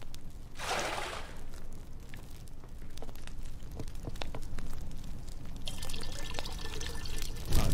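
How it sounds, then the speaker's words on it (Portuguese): Water being poured while making drinking water in the survival video game Raft on Xbox Series, heard as two hissing splash bursts over a constant low background wash. "Tô fazendo água agora"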